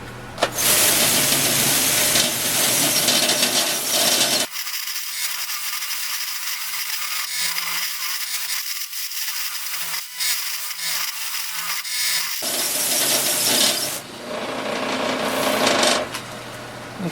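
A wooden gull sculpture is sanded with 150 grit sandpaper, likely on a power sander, giving a loud continuous rasping whir that shifts to a duller, quieter grind for several seconds before the brighter abrasive hiss returns.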